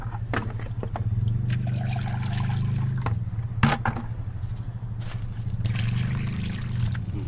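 Water trickles and pours steadily into a beginner's hydroponic seedling setup, a continuous close liquid flow with a few brief splashy bursts and handling noises along the way.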